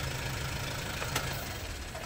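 A Kia Bongo3 Euro4 engine with low power and fuel pressure fault codes idles during an injector test, a steady low rumble with a faint rhythmic knock running throughout.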